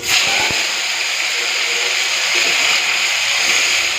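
Chopped tomato dropped into hot oil already tempered with dried red chilli and black mustard seeds in a frying pan, giving a loud, continuous bright sizzle with a few crackles at the start.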